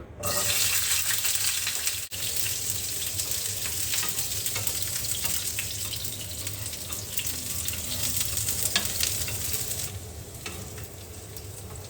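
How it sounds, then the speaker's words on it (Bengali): Garlic cloves frying for bhorta produce a continuous close crackling sizzle that holds steady for several seconds before easing slightly near the end, with no voices. "আর এখানে কয় পিস রসুন ভেজে নিব।"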